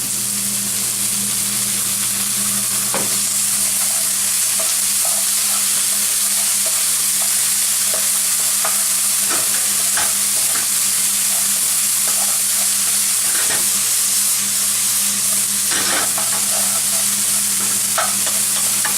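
Chopped garlic, about a tablespoon, frying in a pan for shrimp gambas, with a steady loud sizzle broken by repeated scrapes and knocks of stirring, a low constant hum underneath, no voices.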